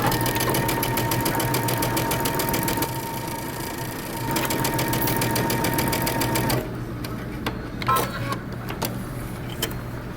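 A sewing machine backstitches a dart on a shirt dress in quick rapid stitching bursts, pausing briefly and starting again, then slowing to a few scattered clicks near the end.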